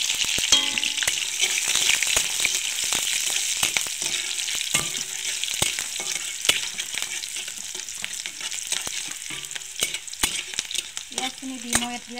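Mustard oil frying in a hot wok gives a steady, loud sizzle and crackle throughout, with scattered sharp pops and clicks close by.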